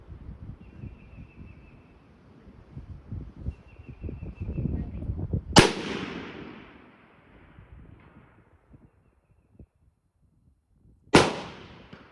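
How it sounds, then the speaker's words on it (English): An L42A1 Enfield rifle fires two sharp, loud shots about five and a half seconds apart outdoors, each with a brief decaying echo. Faint handling noises come before the first shot. "Let's shoot one more."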